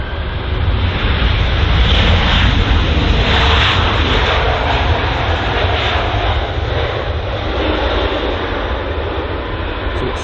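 Airbus A321neo jet engines of an Aegon Airlines airliner at London Heathrow, a loud steady roar holding throughout with a broad rushing wash and no break.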